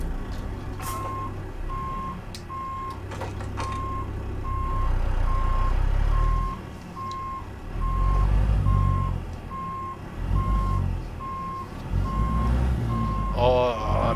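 A Kenworth W900L truck in American Truck Simulator backs a trailer into a parking spot, its reversing alarm beeping in a steady even rhythm over the low engine drone and swelling throttle.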